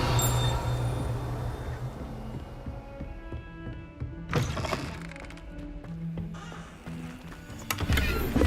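A bird caws in the video game Hogwarts Legacy, heard as a few harsh calls over a quiet ambient game soundscape, with occasional thumps and rustling bursts in the background.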